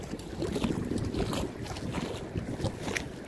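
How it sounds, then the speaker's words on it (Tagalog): Wind buffets a small fishing boat out on the sea, a steady close roar of gusts against the microphone with no voices. "Kaso mahangin eh."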